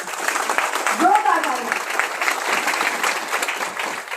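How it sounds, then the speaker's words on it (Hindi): Audience at a Hindi motivational talk breaks into loud, sustained applause, a dense wash of clapping throughout with a brief raised voice or cheer near the start. "एक बार आप सभी के लिए जोरदार ताली।"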